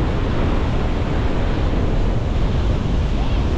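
Strong wind buffets the microphone over rough, choppy sea surf on a fishing boat off Florida, a loud steady roar that never lets up.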